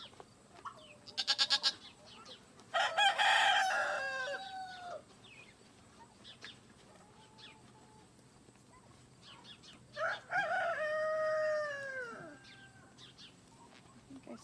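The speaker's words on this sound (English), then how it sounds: "Really, roosters?" Roosters crow twice, loud and fairly close, with chickens clucking in between on a quiet farmstead, no talking.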